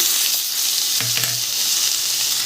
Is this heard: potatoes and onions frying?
yes